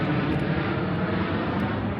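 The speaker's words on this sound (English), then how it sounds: "we got a military plane flying by" Steady broadband roar of a military plane flying overhead, a continuous airy rumble that holds level throughout without speech.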